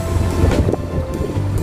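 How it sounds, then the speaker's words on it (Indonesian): Wind gusts buffet the microphone outdoors in a garden in the Netherlands, a loud low rumbling roar with irregular surges and no talk. "Ini sekarang angin teman-teman."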